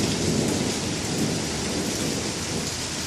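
A thunderstorm in Wimberley, with heavy rain roaring steadily and dense broadband rumble throughout, loud and continuous with no distinct peaks and no voices.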